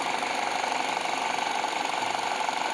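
A warmed-up Peugeot 308 engine runs steadily at idle, a continuous even hum with a faint mechanical ticking texture, close and alone with no talk.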